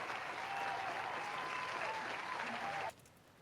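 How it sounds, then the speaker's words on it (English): A crowd at a Guild Wars 2 PvP tournament applauds the team captains in a steady, even wash of clapping that holds for about three seconds before cutting off, heard fairly faint. "Can we give all the captains a round of applause?"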